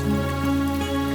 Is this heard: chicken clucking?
no